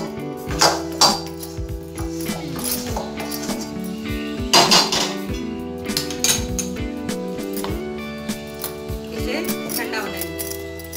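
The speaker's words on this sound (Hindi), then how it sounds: "अभी गैस बंद कर देते हैं और बाउल में निकाल लेते हैं" Cooked vegetable being spooned from a pan into a bowl on a gas stove, a homemade sabzi of blended tomato, onion and garlic, gives repeated close metallic clinks and scrapes of a utensil against cookware, with a voice talking throughout.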